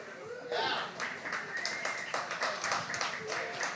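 Clapping from a poetry slam audience after a poet's performance, moderate and steady, with voices and cheers mixed in.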